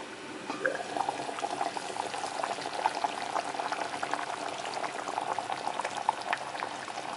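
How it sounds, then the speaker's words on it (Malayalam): Restaurant-style Kerala fish curry made with ground coconut boils in a covered pot, giving a close, steady bubbling with dense, continuous popping and no talk. "കറി തിളച്ചിട്ടുണ്ട്."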